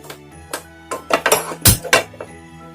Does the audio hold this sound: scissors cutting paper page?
no